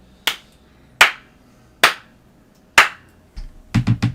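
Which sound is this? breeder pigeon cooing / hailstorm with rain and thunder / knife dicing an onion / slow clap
slow clap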